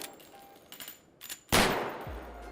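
A single loud revolver shot in the survival game Persist Online, a sharp crack with a decaying echo, preceded by quieter clicks and shuffling.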